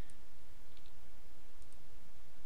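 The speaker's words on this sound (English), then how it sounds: "I'm just control clicking" Computer mouse clicking during 3D modeling work in Blender, a few light, sparse clicks close by over a constant background hiss.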